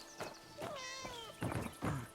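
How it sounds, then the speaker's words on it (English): A cat meowing in a video game, a drawn-out meow followed by a couple of shorter ones, faint and clear over quiet game sounds with no talk. "I hear Kitty."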